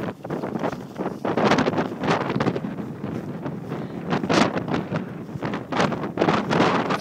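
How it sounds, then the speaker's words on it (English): Strong wind buffets the microphone on a mountain hike in the Mournes, a continuous loud roaring rumble with gusty surges throughout, no voices heard. "So windy."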